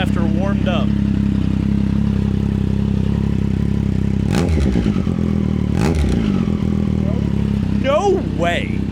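A warmed-up Triumph Street Triple with an SC Project Moto2 exhaust idles loudly and steadily up close, with a few sharp revs rising and falling, while people talk over it.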